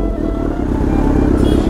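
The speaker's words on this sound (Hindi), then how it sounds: "तो फाइनली अपनी बाइक का एग्जॉस्ट चेंज हो चुका है, तो हमने फुल सिस्टम करा दिया है।" Kawasaki Z900 motorcycle fitted with a full-system aftermarket exhaust, idling steadily with a loud, deep, continuous engine rumble close by, no voices over it.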